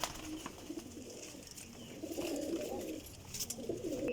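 Young golden Sialkoti pigeons coo softly and repeatedly in a loft, with low rolling calls rising and falling over faint background noise.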